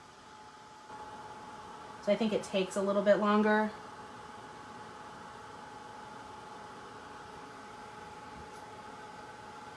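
A Ranger heat embossing gun shaped like a hairdryer blows hot air in a steady, faint whir that runs throughout, with a brief spoken remark partway through.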